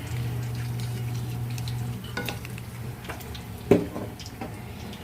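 Tilapia frying in a pan to crisp it, a steady loud sizzle of hot oil with scattered pops and a sharp crackle near the end, no voices.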